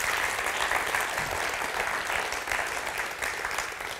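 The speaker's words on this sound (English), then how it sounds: "let's give a round of applause and some love to Jenny and the whole team" Audience applause fills a church-style gathering, a steady dense wash of clapping hands held at even loudness for about four seconds, fading slightly at the end, with no talk over it.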